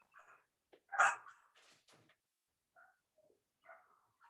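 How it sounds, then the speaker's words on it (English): Small yappy dogs barking and whimpering indoors, a few scattered sharp yaps and whines with quiet gaps between, one bark noticeably louder than the rest. "I have a bunch of little yappy critters"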